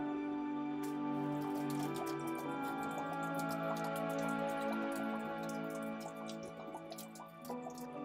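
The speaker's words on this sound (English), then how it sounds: "then empty the barrel out, which we'll do now" New make malt spirit drains out of an oak barrel, a steady trickling and dripping of liquid that carries on throughout and eases slightly toward the end.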